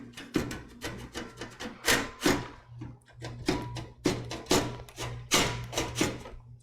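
Screws being removed from a PC case, a series of small repeated scraping, rubbing turns with brief pauses, close and fairly quiet, no talk.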